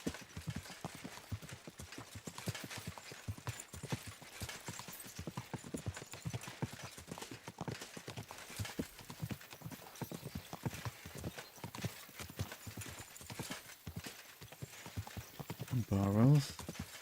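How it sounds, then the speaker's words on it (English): Steady clip-clop of horse hooves at a walking pace in a video game set in medieval Bohemia, rhythmic and continuous for the whole stretch, with a brief neigh near the end and a voice talking over it. "Not galloping the horses."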